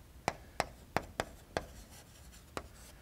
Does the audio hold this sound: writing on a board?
yes